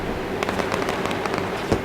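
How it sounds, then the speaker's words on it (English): Fireworks bursting over a race track after a street stock championship race, heard as a string of sharp crackling pops spread through the clip above a steady crowd and track background, with one louder bang near the end. "And the fireworks sound off of turn number 3."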